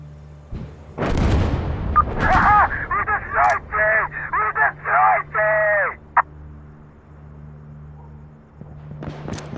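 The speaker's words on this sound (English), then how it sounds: "I got a rocket launcher, get clear." A rocket launcher fires in the Insurgency Sandstorm video game: one loud, sharp blast near the start, then several seconds of raised, shouting voices and a brief second burst at the very end.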